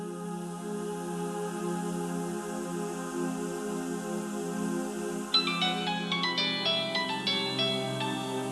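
A phone ringtone starts partway through, a bright melody of repeated chiming notes playing over sustained background music that runs the whole time.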